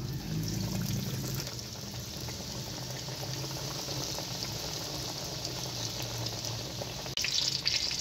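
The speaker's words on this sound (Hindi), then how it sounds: "अब हम इनको फ्राई करते हैं।" Breaded fish pieces frying in oil over a low flame for fish and chips, giving a steady, dense hiss that runs throughout, with a brief louder burst near the end.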